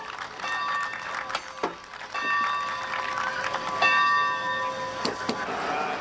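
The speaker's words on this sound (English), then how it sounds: "the bell on the locomotive was rung, resulting in spontaneous applause" The bell on a Santa Fe steam locomotive rings out in a park display setting, repeated clear metallic clangs ringing with sustained tones over a faint crowd background.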